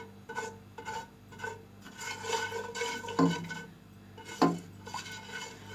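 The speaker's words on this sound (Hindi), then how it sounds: "अब हम ऑयल में तमाम स्पाइस को मिक्स करेंगे।" A spoon scrapes and rubs through ginger-garlic paste and spices in oil in a pot with the flame off, a series of close rasping strokes with two sharper metallic knocks.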